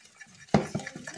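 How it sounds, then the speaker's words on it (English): A utensil stirring cupcake batter mixed with ordinary cooking oil in a bowl, one sharp clink against the side followed by softer scraping strokes, close and brief. "Mix it all up."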